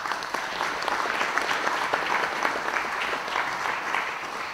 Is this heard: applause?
yes